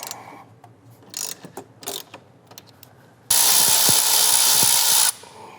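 Bolts being broken loose by hand with a wrench on a car engine, a few sharp clicks and ratcheting ticks, then a loud steady burst of hissing spray for about two seconds before it cuts off.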